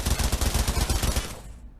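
Rapid automatic fire from a Scorpion personal defense weapon in the Pavlov VR shooter, a loud steady burst of closely spaced shots lasting over a second before cutting off into a brief fading tail.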